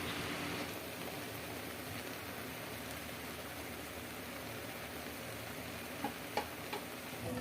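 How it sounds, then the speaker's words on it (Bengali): Spinach and shrimp cooking in a pan with a little light broth give a faint, steady soft sizzle and hiss, with a few small ticks near the end and no talking. "ঢাকনা খুলে কিছুক্ষণ রান্না করলেই পালং শাক দিয়ে চিংড়ি মাছ রান্না হয়ে যাবে"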